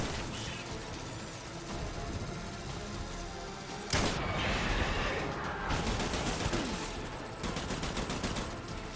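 Gunfire in the Death Stranding video game, a dense rattle of rapid shots running throughout with a heavier burst of blasts partway through, loud and continuous without pause.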